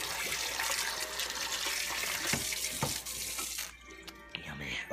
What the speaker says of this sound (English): Just gonna put that in the sink. Fill up a little bit of water.